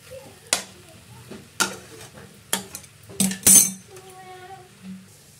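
Potato chutney stirred in a pan, with a few distinct scraping and clinking strokes of a spoon against the metal spaced about a second apart, followed by a faint fading ring.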